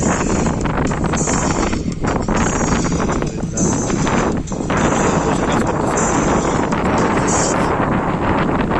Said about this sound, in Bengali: ভাই, কিরকম বাতাস।